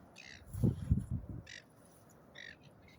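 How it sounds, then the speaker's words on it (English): Harsh squawking bird calls, taken as seagulls, ring out in several short bursts on a morning walk, sounding moderately distant over low rumbling and footsteps nearby. "You hear the seagulls."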